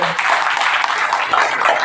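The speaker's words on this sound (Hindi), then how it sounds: "उनके लिए जोरदार तालियां हो जाए" An audience claps loudly for a spiritual speaker at a Bhagavad Gita gathering, dense and continuous applause close up for about two seconds, no talking.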